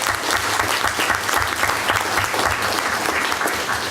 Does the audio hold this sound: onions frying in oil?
no